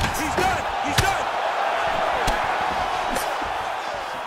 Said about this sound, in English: And you hear the crowd react every time.